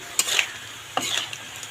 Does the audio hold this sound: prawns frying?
yes